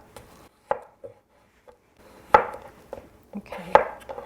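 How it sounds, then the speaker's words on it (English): A knife chops potatoes into even pieces on a cutting board for garlic mashed potatoes, giving sharp, separate thunks in an irregular rhythm, close and fairly loud with quiet gaps between strikes. "you want to be able to cut your potatoes to about the same size"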